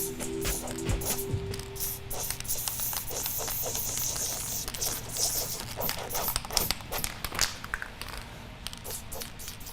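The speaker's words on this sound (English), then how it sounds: "So I'm using the spray paint because on the white canvas" Spray paint hisses onto a white canvas in repeated short bursts, close and fairly loud, with a steady hiss and a low hum in the background.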